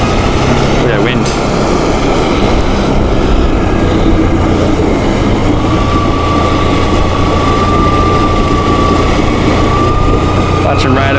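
Engine-swapped 2020 Can-Am Outlander XMR ATV with an 850 engine, droning steadily and loudly while riding along the top of a trench, mixed with wind rush and a thin whine.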